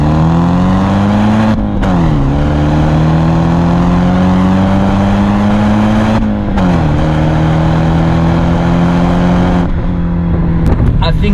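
A BMW 320i engine pulls hard under acceleration through a corner, a loud, steady drone that climbs in pitch, dips briefly at two gear changes, then climbs again, close and continuous throughout.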